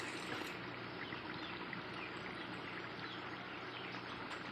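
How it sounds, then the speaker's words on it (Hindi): Water poured into a qorma masala in a large pot for a village-style degi qorma, a steady soft trickling rush that runs evenly for a few seconds at close range, with no talk. "तो अब इसमें हम थोड़ा सा पानी शामिल करेंगे"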